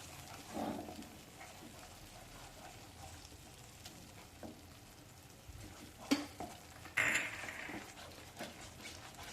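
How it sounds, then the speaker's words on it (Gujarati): Masala gravy for cheese anguri cooks in a pan while being stirred, a soft low simmer broken by a few scraping spoon strokes and a brief sharper clatter near the end, quiet with no talking. "ત્યારબાદ આપણે સ્ટર કરતા રહીશું પ્રોપર બધા મસાલો મિક્સ થઈ જાય અને પાકી જાય"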